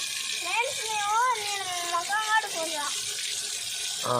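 Mission Bhagiratha tap water, Krishna river water, runs in a steady hissing stream for washing a child's face and feet, while voices, including a child's, talk over it nearby.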